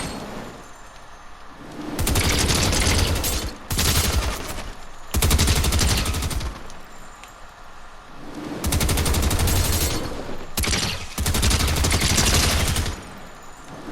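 An enemy bot firing at the player in a Raiders aim trainer shooter, loud sustained bursts of rapid automatic gunfire, four or five long volleys of a second or two each separated by short pauses, alone without talk.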